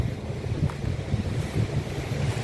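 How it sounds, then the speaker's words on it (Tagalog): Strong wind on a bike ride in Alberta, Canada, roars steadily and loudly as a close, gusty rumble that buffets the microphone throughout, with no voices. "Sobrang hangin."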